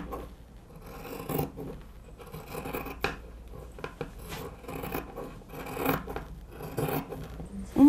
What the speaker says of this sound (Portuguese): você vai agora remover todo o excesso de tecido e de manta junto